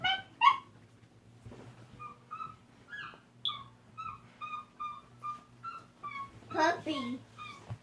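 A puppy whimpers in a series of high, thin whines, several short cries repeating at a steady pace, close and clear over a quiet low hum.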